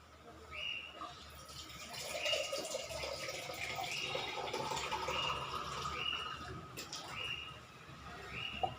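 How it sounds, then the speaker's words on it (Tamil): Water is poured into a pot of cauliflower kurma with ground coconut, a steady splashing fill that runs throughout, with faint bird calls in the background. "இப்போ இதில் தண்ணி ஊற்றிடலாம்."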